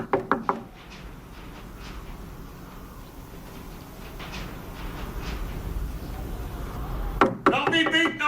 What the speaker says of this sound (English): Don't be beating on that goddamn door!